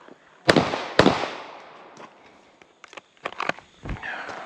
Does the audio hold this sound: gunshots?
yes